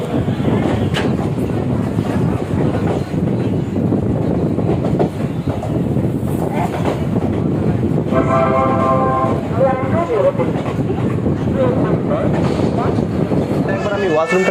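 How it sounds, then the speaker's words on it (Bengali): The 12363 Haldibari Intercity Express pulls out of Rampurhat station, heard from inside a coach as a steady, loud rumble and rhythmic rail clatter with wind buffeting, and a brief tonal whine midway. "রামপুরহাট থেকে আমাদের ট্রেন ছেড়ে দিয়েছে।"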